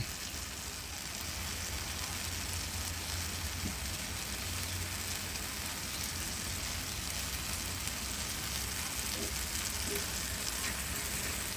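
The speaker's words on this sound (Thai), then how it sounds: "ผัดให้สุกอีกนิดหน่อยค่ะ" Tomatoes stir-fry in a pan, giving a dense, continuous crackling sizzle like heavy rain that holds at an even, close level throughout.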